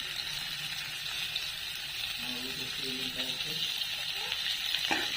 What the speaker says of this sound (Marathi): आता टोमॅटो टाकायचं